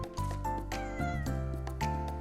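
A cat in the video game Little Witch in the Woods gives a couple of clear, close meows over light game music, with no talking.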